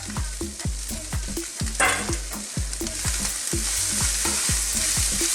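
Beef mince frying in a pan for shepherd's pie as mushrooms are tossed in, giving a steady bright sizzle with stirring scrapes beneath a rhythmic music bed.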